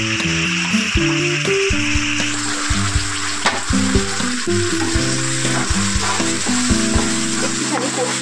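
Ground spices frying in a hot pan for doi katla, Bengali yogurt fish curry, flare into a louder sizzle as water goes in, with steady bubbling and stirring close by over a bed of soft background music.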